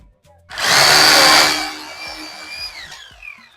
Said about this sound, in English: So we need this power drill so that we can make it in a short time.